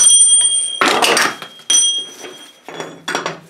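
A hammer drives a brass drift to knock a trailer bearing race out, making four close bursts of ringing metallic blows separated by short gaps, with a bright bell-like ring lingering between strikes.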